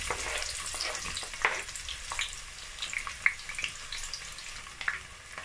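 Chopped onions hitting hot oil in a pan for a Nigerian designer stew, a steady close sizzle and crackle with a few sharp spatters and stirring clinks and no talking.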